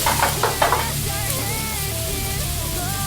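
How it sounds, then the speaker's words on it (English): Mushrooms sauté in oil in a pan for chicken piccata with a steady close sizzle, opening with a few quick clattering stirs. "So we're going to saute this up just a little bit."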